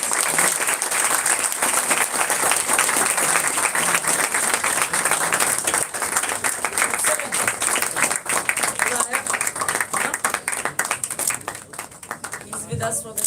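Sustained audience applause at a student research conference, loud and dense clapping throughout with a few voices mixed in, easing slightly toward the end.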